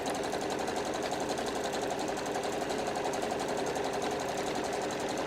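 A sewing machine runs steadily at close range, stitching fabric scraps into a scrunchie with a few back stitches before sewing forward over perpendicular pins, a continuous even mechanical whir with no talk.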